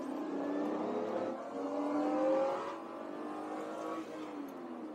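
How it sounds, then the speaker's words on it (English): A Lexus IS300 with a J160 manual swap pulls hard in second gear, its engine note rising steadily from inside the cabin, dipping briefly, then climbing again at moderate volume. "Second gear, full acceleration."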